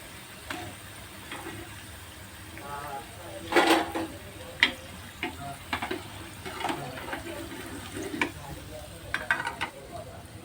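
Sliced bitter gourd (karela) chips frying in hot oil give a light sizzle, broken by scattered stirring clinks and occasional louder bursts, fairly quiet and close.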